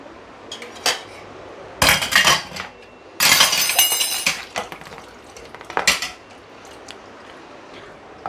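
Steel and plastic dishes and utensils clatter and clink as they are loaded into an IFB VX Plus dishwasher, coming in loud, close bursts of clanking separated by quieter pauses, with no talking.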